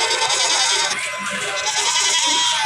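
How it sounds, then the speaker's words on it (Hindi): A large goat bleats at a busy livestock market in Layyah during a Bakra Mandi, its calls blending into a dense, steady wash of crowd noise and nearby animals. "बहुत बड़ी बकरी है भाई ये।"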